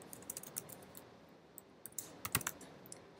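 Typing on a computer keyboard: quick irregular bursts of light key clicks, close and fairly quiet, with a couple of firmer presses near the end and no talking.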